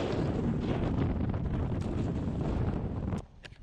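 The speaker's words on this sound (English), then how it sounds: "so windy." Strong mountain wind near a 14,179-foot summit buffets the microphone in a loud, steady roar, dropping off abruptly near the end.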